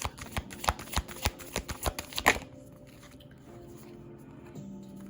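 Tarot cards being shuffled by hand, a quick run of riffled, slapping shuffles up close that stops abruptly, followed by quiet room tone.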